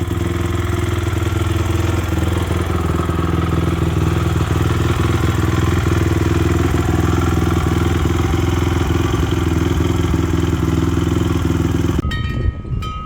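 A Honda CRF450R dirt bike with a carburetor runs steadily at a loud, close idle, its engine note even and continuous for most of the clip before cutting off abruptly near the end.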